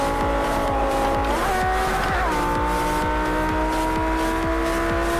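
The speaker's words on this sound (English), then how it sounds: "Car accelerating at a decent pace, as per usual." A performance car races along a track in a head-to-head between a Lamborghini Huracán and an Audi R8, its engine droning loud and steady with shifting pitch and a brief tire squeal midway.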